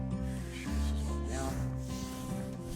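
A steel blade spreads a small amount of Venetian plaster across a wall in a tight full coat, giving a steady, close scraping rub that continues without a break.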